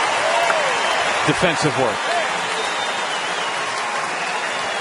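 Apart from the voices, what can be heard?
applause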